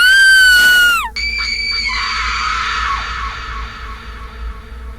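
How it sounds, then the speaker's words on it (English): Several people scream in panic in a horror-story effect, one shrill wavering shriek up front cutting off into a layered chorus of falling screams that trail away over a low rumble. "Anna's friends screamed in panic"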